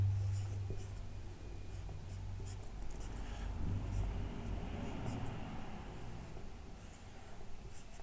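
Chalk or marker writing a question on a classroom board, a steady scratchy stroking sound running through the whole stretch under a low room hum, fairly close and moderately quiet.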